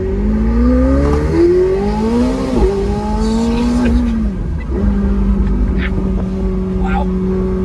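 A 2024 McLaren 750S Spider engine revs up through climbing automatic gear changes in track mode, the exhaust pitch rising and dropping with each shift, with a few brief vocal sounds late on.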